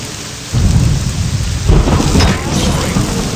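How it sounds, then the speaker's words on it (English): Lightning bolt spell cast from a ring in the game Morrowind, heard as a loud, sudden crackling rumble that swells twice and then keeps a dense, roaring wash like a thunderclap and heavy rain. "Let's use my Ring of Lightning Bolt."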